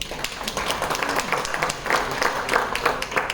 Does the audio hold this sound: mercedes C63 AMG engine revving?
no